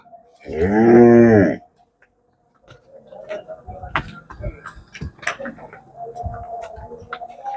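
A single loud, close cow moo rings out, followed by clattering, knocking, and a few scattered voices in the background.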